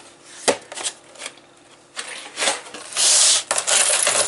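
Uncleaned coins are handled in small boxes at home, giving several sharp metallic rattles, scrapes and shuffling bursts close up, including a sustained jingle of coins sliding together near the end.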